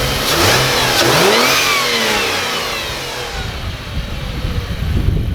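A car engine, a Holden Commodore SV6 or Ford Falcon XR6, turns over and catches, then revs up and falls back to a rough idle, loud and close.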